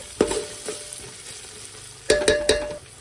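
Ingredients fried with turmeric for goat head curry are stirred in a pan: a few sharp metallic scrapes and clinks ring out close up over a low, soft sizzle, with a cluster of quick strokes near the end.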